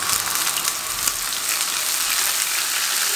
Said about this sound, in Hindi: इस टाइम पे आके ग्राइंड की हुई प्याज शामिल कर देंगे